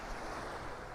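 Ocean waves washing in at the water's edge on Palm Beach, Aruba, a steady, soft wash of surf with some wind rumble, faint and continuous with no voices.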